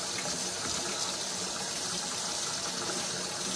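A kitchen faucet runs steadily into the sink as the water warms up, a continuous close gushing hiss with no pauses.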